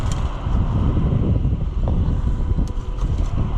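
Steady, loud wind blows continuously on a windy day outdoors near a fence, with low rumbling gusts buffeting the microphone and no voices heard.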